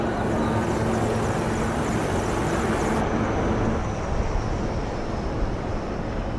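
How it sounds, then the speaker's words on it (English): Apache and advanced light Mark IV helicopters flying in an echelon formation during an Independence Day flypast. A loud, continuous roar of engines and rotors sounds close by and steady throughout. "2 Apache helicopters and 2 advanced light helicopters, Mark IV aircraft in echelon"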